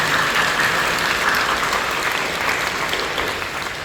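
A church congregation bursts into loud, dense applause during a worship service, many hands clapping together close and strong, then easing slightly toward the end.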